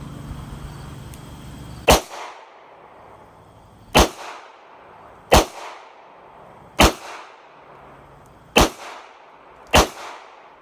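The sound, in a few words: 22 WMR gunshots from Bear Creek rifle or Ruger LCR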